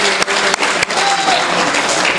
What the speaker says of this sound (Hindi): एक बार सारे लोग मिलकर जोरदार तालियां बजाएं।